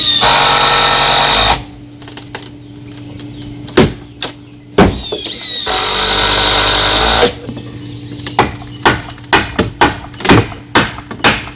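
A loud power drill drives long screws into pool deck boards, two long sustained whirring runs separated by short bursts and thuds, then a series of rapid trigger pulses, close and with no talking.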